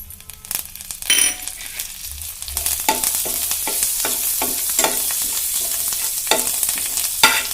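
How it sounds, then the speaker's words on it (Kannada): Cumin, mustard seeds and curry leaves crackle in hot tempering oil for palak majjige saaru, a busy close sizzle broken by sharp pops, spoon clinks and stirring scrapes. "ಅರ್ಧ ಸ್ಪೂನ್ ಜೀರಿಗೆ ಹಾಕತ್ತೀನಿ, ಅರ್ಧ ಸ್ಪೂನ್ ಸಾಸ್ವೆ ಹಾಕತ್ತೀನಿ"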